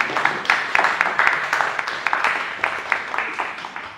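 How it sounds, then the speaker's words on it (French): A small audience at an archaeoastronomy talk claps together, producing a pulsing, somewhat rhythmic run of hand claps that swells and dips for a few seconds. "Oui, on peut applaudir Daniel."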